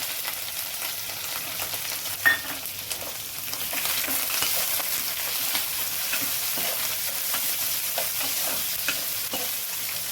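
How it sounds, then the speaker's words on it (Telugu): Chana dal fries in oil with green chillies and onions, giving a continuous close sizzle with stirring scrapes and small pops throughout, and no speech. "ఇదిగోండి శనగపప్పు వేగుతుంది కదా ఇందులో మనం పచ్చిమిర్చి అలాగే ఉల్లిపాయలు కూడా వేస్తుంది"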